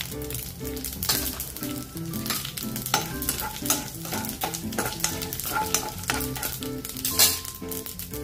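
Urad dal, cumin, cinnamon and dried chili frying in a pan, a steady sizzle broken by repeated scraping stirs and occasional clinks, close and alone with no talk.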